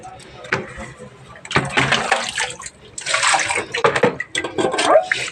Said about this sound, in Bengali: দাঁড়াও, এটা করে জল দিই কল থেকে।